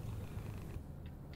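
A cat purrs close by as a steady, low rumble that holds for the whole short stretch, alone and without talk, with a slight fade partway through.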